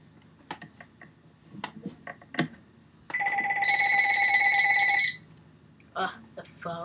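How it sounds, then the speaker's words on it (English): A telephone ringtone sounds in a game episode, a bright electronic trill lasting about two seconds, preceded by scattered clicks and taps with brief voices around it. "The phone is ringing."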